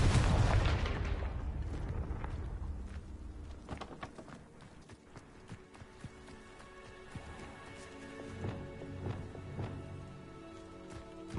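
A booming Confringo fire-spell blast in Hogwarts Legacy opens loud and fades into a long rumble, followed by scattered crackles, thuds and a few quieter bursts of combat noise.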